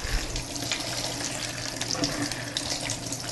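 Cooked yam chunks rinsed under a running tap, a steady, close, rushing stream of water splashing into a sink, with no talk over it.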